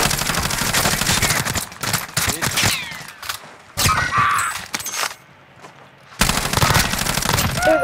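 Rapid gunfire from a first-person shooter game, bursts of automatic weapon fire rattling close and loud in several volleys, with a brief lull in between before another heavy burst.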